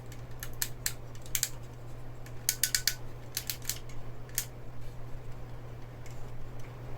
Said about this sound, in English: the ball joints were not loose, and the ratchets, you could hear